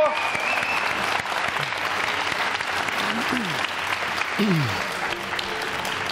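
A Bulgarian game-show studio audience breaks into loud, sustained applause after a correct answer, dense clapping filling the room while a few voices and whoops rise briefly above it.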